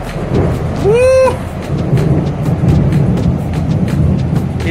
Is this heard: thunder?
yes